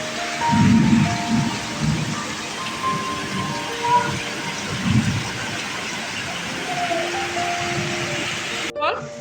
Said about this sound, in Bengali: দারুণভাবে সাদা হয়ে ঝড় বৃষ্টি হচ্ছে